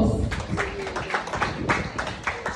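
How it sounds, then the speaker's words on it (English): Audience clapping at a ceremony for a young Nigerian king, uneven bursts of hand claps close and fairly loud, with no speech over them. "Let's give a round of applause."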